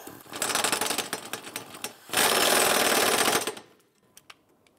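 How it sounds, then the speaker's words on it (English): An impact wrench tightens the rear strut bolt on a 2005-2007 Ford Five Hundred, delivering two loud rattling bursts, the second longer and steadier, followed by a few faint clicks. "Let's tighten down our rear bolt."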